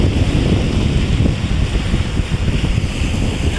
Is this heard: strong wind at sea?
yes